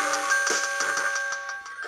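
A GameBoy Mini Woofer subwoofer buzzes with a steady tonal hum and a quick rhythmic pulsing over it, close and fairly loud, with no talking.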